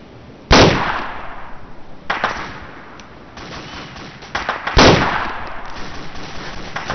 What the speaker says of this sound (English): Somebody's got a machine gun out there, it seems like